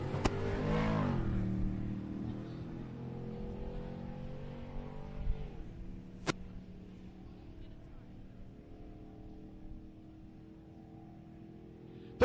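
A GMC Jimmy and a Camaro launch side by side down a drag strip at Great Lakes Dragaway, engines roaring loudly at first, then fading into a steady drone. A few sharp knocks are heard, and a commentator's voice runs underneath.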